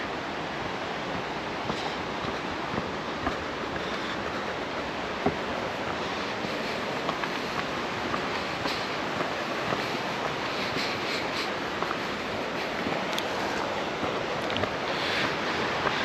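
Steady broadband rush of a river along the Little River Trail in an Olympic rainforest, flowing continuously with a constant, even wash of water and no voices.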